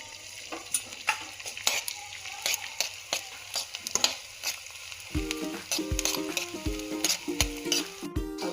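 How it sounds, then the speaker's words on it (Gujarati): Edible gum (gond) frying in hot oil or ghee for fenugreek laddoos, a steady close sizzle broken by repeated clinks and scrapes of a spoon stirring against the pan. "હવે આપણે ગુંદ લઈશું ગુંદને તળી લેવાના છે"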